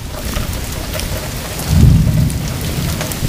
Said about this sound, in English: We got more hail coming down.